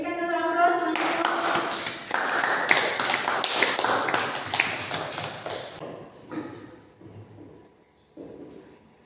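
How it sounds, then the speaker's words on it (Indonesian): A classroom of students applauds during a teaching session, a dense burst of clapping that swells and then tapers into scattered claps over several seconds, with no talk over it. "Berikan dulu aplaus untuk"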